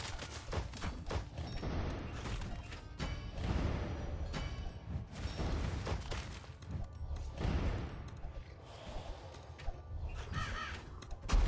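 Crows caw repeatedly in Kingdom Rush Vengeance, harsh calls mixed with bursts of gunfire-like volleys, crashes and impacts from the ongoing battle, loud and busy throughout.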